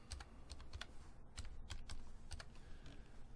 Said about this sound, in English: I'm going to type out my name